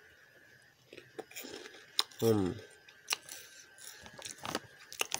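Someone bites into and chews Chiki Balls Curious Choco, a chocolate-flavoured puffed snack, giving soft close crunches under a brief hum and quiet talk.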